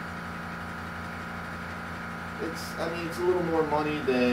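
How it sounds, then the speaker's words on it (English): A Harbor Freight Fortress one-gallon air compressor runs with a steady, moderate hum while a person talks over it. "I'm actually talking over the compressor right now, which was never possible with my old one"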